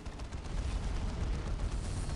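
A deep, rumbling cannon blast from a Shadowsword super-heavy tank in Warhammer 40,000: Dawn of War – Soulstorm, with a sustained low roar that fills the whole clip, loud and heavy.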